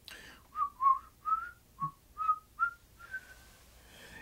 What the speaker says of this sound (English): Just a little whistle.